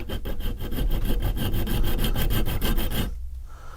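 Rapid, even back-and-forth file strokes undercut the hook on a Franchi 612VS shotgun part, loud and close, about fifteen rasping passes in steady rhythm before stopping abruptly.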